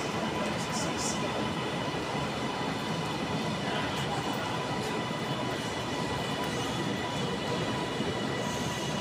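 A five-coach train arriving at Preston railway station rumbles steadily with broadband rail noise and faint high squeals from the wheels, continuous throughout with no talking.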